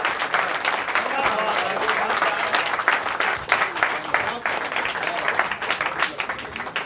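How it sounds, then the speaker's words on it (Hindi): Loud, sustained applause from a large audience at a Delhi mushaira poetry gathering, dense steady clapping filling the room throughout without a break. "जोरदार तालियां बजा दीजिए।"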